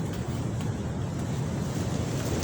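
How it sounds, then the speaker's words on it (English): Strong wind gusts buffet a tent outdoors, making a continuous rushing, rumbling roar with heavy low thumps as the fabric is pounded. There is no speech. "we get these gusts, just hits the tent, just pounds the tent"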